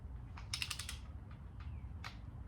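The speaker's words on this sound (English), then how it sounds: "I'm just going to tighten this one down until it gets to about the same point." A ratchet wrench tightening an engine bolt during engine assembly, giving a quiet close run of quick clicks followed by a few separate clicks and creaks.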